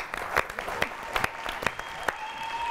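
Applause from a kavi sammelan audience greeting a poet at a Holi comedy poetry event: a close, steady wash of clapping with a few sharper individual claps standing out, no talking over it.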